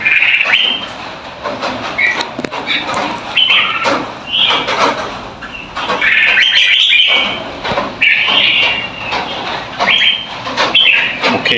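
Red-whiskered bulbul chicks chirp and cheep in repeated high, insistent bursts, close by and loud, with short pauses between clusters of calls and no talking.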